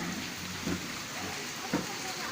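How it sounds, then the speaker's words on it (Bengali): Rain falling steadily in gusty wind on a street, a continuous broadband wash with a few soft low thumps, no voices heard. "এখনও ঝোড়ো হাওয়া দিচ্ছে আর কেমন বৃষ্টি পড়ছে, সমান তালে বৃষ্টিটা কেমনভাবে পড়ছে দেখতে পাচ্ছ"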